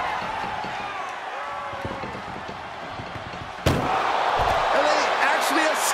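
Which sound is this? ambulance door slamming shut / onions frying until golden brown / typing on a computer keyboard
ambulance door slamming shut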